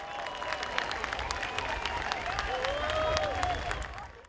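A crowd of locals and tourists applauds the sunset in Rio de Janeiro, scattered outdoor clapping spread across a wide space, with voices and chatter mixed through it.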